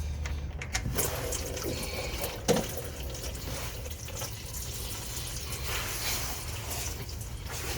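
Engine oil pours from a 2014 Dodge Ram 1500 with the 5.7 Hemi into a drain pan, a steady close splashing trickle with one brief louder knock.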